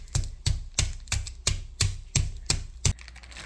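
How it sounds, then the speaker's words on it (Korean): Rice cake dough for strawberry injeolmi being pounded with a small mortar: eight evenly spaced, sharp thuds about every third of a second, close and clear with no talking. "조그마한 절구로 이렇게 두들겨 주면은"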